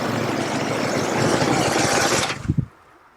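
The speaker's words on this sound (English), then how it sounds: "this week I've been testing this monstrous motorcycle, the Harley Davidson Electra Glide Ultra Limited" A Harley Davidson Electra Glide Ultra Limited touring motorcycle engine roars loud and close for about two seconds, then cuts off into a few low chugging pulses before going quiet.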